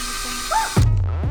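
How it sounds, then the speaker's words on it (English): A drill bites into a car spoiler on an Audi in a short, close whirring burst that starts partway through and runs to the end. "mark in an approximate position to drill into the spoiler"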